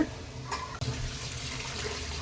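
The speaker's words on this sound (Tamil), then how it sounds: "வதக்கிட்டு இப்போ கொஞ்சமாக தண்ணி விட்டுக்கலாங்க" Water runs steadily into a pan of sautéed onion and tomato for spinach sambar, a continuous splashing, gurgling flow, close by and fairly loud, starting after a brief clatter.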